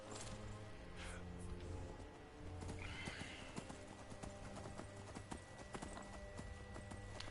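A horse in the video game Skyrim whinnies once, with steady clip-clop hoofbeats throughout over a continuous low game ambience.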